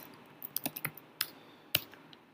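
Fingers tap out a short burst on a computer keyboard, a handful of crisp, close clicks in an uneven rhythm, then a lone harder keystroke, with no voices.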